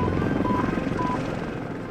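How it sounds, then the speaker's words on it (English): Two helicopters flying low and fast in a desert duel, a steady rotor and engine roar that fades slightly and stays loud throughout, with no voices. "Both helicopters keep moving at high speed, making difficult targets"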